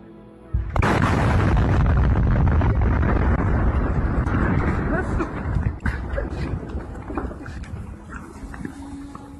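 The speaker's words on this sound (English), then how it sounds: "an explosion" An explosion at Appiatse, captured on onlookers' footage: a sudden loud blast that breaks into a long roaring, crackling rumble and slowly fades over several seconds.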